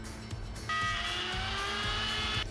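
A router cuts along the edge of a wooden boat trailer bunk with a steady high whine, entering abruptly and holding close and loud for about two seconds before cutting off.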